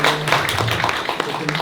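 An audience at a social workers' association election debate in South Jeonnam gives a dense round of applause, steady and fairly loud throughout.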